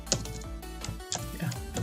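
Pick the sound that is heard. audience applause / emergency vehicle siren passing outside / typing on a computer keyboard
typing on a computer keyboard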